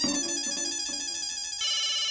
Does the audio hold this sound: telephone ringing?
yes